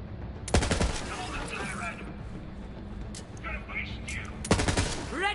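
Bursts of weapon fire in Borderlands 3 on Eden-6: a loud volley near the half-second mark, scattered shots and game effects under talk, then another heavy burst near the end.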